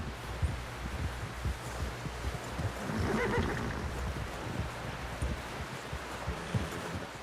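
A horse whinnies and snorts in Red Dead Redemption 2, with hoof clip-clops and rustling around it, close and moderately loud over a steady outdoor ambience, no voices.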